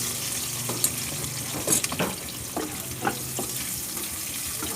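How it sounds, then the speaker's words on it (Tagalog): Onions sauté in a hot pan for chicken adobo, a steady close sizzle with occasional stirring scrapes and clicks. "Gisahin ko muna po ang sibuyas."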